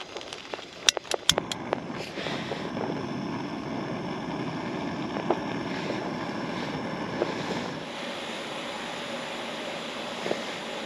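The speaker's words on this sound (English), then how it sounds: "it's time to get the jet boil on" A Jetboil camping stove burning at a wild camp in the Forest of Bowland, a steady close hissing roar after a few sharp clicks of ignition, holding on continuously before easing slightly.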